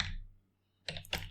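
A few quick computer keyboard keystrokes click close by in a quiet room, separated by a short pause.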